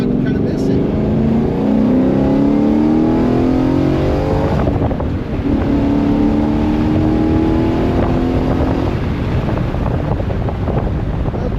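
A Ford Coyote V8 truck pulls steadily from inside the cab, its engine note rising through a long climb, dipping briefly, then climbing again under road and wind noise, with someone talking over it.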